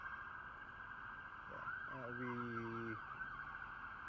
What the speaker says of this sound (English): there's an ambulance. I don't know if you guys hear that or not